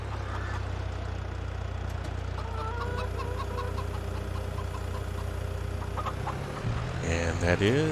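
Chickens clucking on a farm in Farming Simulator 22, steady hen chatter over a low idling farm engine hum, with a louder burst of clucks near the end.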